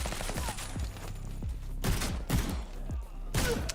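Gunfire in the video game Suit for Hire: a rapid volley of sharp, booming shots in irregular bursts, with heavier blasts clustered near the end.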